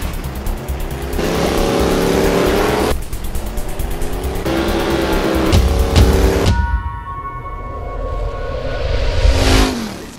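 A car engine drifting in Gran Turismo 7 revs hard in repeated surges, dropping between bursts, with tire squeal and a rising whine near the end, loud and close.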